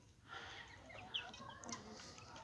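High, thin peeping calls from small Light Brahma and Wyandotte chicks, scattered and fairly soft, over a low background hum.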